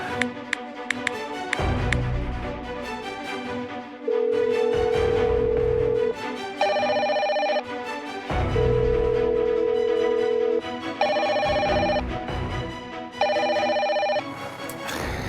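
A home telephone rings repeatedly and goes unanswered, its electronic tone sounding in regular bursts with pauses between them, loud and close, with no one speaking.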